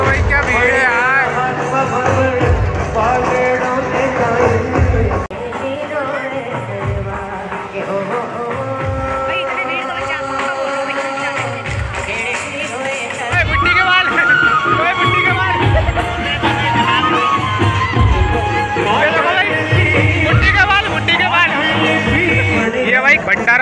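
A dense, noisy crowd at the Kankeshwari Garba festival in Indore, with continuous loud babble and music running throughout.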